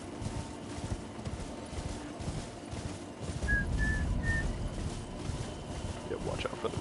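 Horse hooves galloping in the video game Elden Ring, a steady rhythmic clip-clop running throughout at moderate volume with a few brief whistle-like tones over the top.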